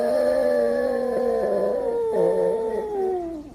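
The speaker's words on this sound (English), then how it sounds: "Buddha, when he hears the Ricola commercial, Ricola. he howls." A Boston Terrier howling along to a TV commercial, one long wavering close howl with a brief break midway before trailing off.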